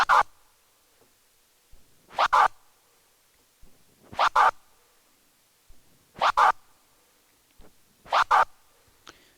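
Record scratches repeat in four evenly spaced bursts, each a forward flurp chopped by two quick crossfader clicks, close and crisp over near silence.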